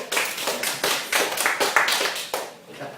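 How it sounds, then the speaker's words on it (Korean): Audience clapping at a couples' communication class, a short burst of scattered hand claps from a small group, close and irregular, tapering off toward the end. "박수 한번 쳐주세요."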